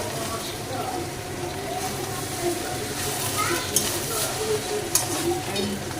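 Spice paste for prawn pulao stirred and fried in a pan, with a steady sizzle and scraping stir strokes, a couple of sharper clinks near the end, and voices faintly underneath.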